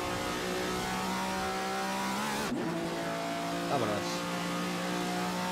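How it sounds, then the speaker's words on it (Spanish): A race car engine in Assetto Corsa holds a steady, loud drone, dips briefly around a gear change, then revs on. Someone speaks a word over it. "Sonido es espectacular del coche, ¿eh?"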